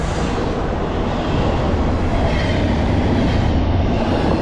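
A CSX or Norfolk Southern freight train of 122 axles at 49 mph rumbles past loudly and steadily on the Conrail Lehigh Line, a dense roar of wheels and cars that stays constant throughout.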